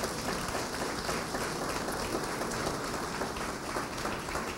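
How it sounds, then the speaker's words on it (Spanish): A church congregation applauding together at a Spanish-language sermon, steady dense clapping that holds evenly from start to finish with no pauses. "Dale un aplauso"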